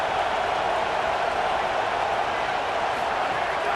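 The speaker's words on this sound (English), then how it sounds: "Listen to this crowd just shaking the girders of this place" Stadium crowd roaring steadily in EA Sports College Football 27, a dense, continuous wall of noise with no breaks across the whole stretch.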